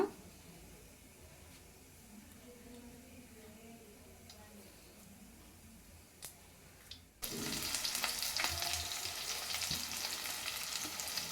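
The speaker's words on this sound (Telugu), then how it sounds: "కొంచెం జీలకర్ర కొంచెం ఆవాలు పోసుకోవాలండి నూనె వేడైన తర్వాత" Cumin and mustard seeds hit hot cooking oil. After a stretch of near quiet with faint kitchen noises, a sudden loud, crackling sizzle bursts in and keeps going close by.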